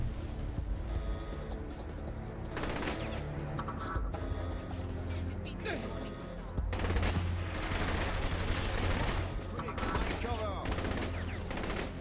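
Rapid bursts of gunfire from the video game Saints Row: The Third, firing in repeated volleys against a continuous backdrop of game music and effects, growing louder and denser in the second half.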